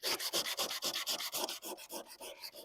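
Coarse 36-grit sandpaper rasps against the surface of an old Ranger in quick, even back-and-forth strokes, about a dozen close, crisp scrapes in under three seconds, with no voices.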